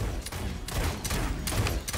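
Gunfire in the video game Realm Royale, a dense, continuous barrage of rapid shots with several sharper bursts standing out, loud and close throughout.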